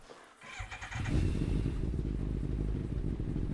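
Motorcycle engine in the GTA 5 video game starts up after a brief quiet moment, then holds a steady, loud, low rumbling idle close by with no talking.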